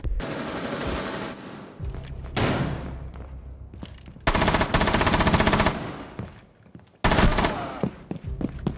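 Bursts of rapid automatic gunfire ring out in Rainbow Six Siege, with long sustained volleys broken by short pauses and single thuds, loud and close.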